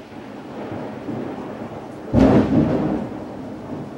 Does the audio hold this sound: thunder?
yes